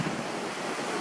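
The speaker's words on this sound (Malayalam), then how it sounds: "എന്തായാലും സംഭവം നല്ല കിടിലൻ വെള്ളച്ചാട്ടമാണ്" Punnayar waterfall in Idukki pours down in a steady, loud roar of rushing water, with wind buffeting the microphone throughout and no voices.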